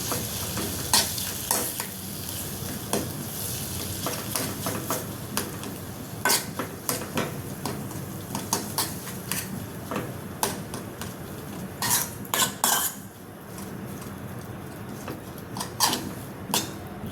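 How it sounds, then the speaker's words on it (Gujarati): Boiled mashed potato filling for aloo paratha is stirred in a pan, a low steady sizzle broken by frequent sharp scrapes and knocks of the spoon against the pan, close and with no talking. "હલાવી લઈશું।"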